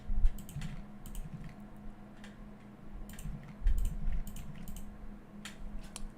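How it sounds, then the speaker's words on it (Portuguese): Computer keyboard typing, heard as close, crisp bursts of clicks in short irregular clusters with brief pauses between them, and no talking. "Deve dar uma barulheira aí de clique, né?"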